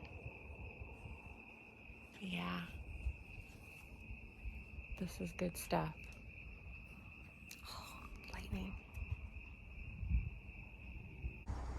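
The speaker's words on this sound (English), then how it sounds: "It's got a fantastic breeze. You can hear all the crickets." A steady high cricket chirp runs throughout at night at a campsite in Sibley State Park, Minnesota, with quiet voices speaking now and then over faint background rustle and breeze.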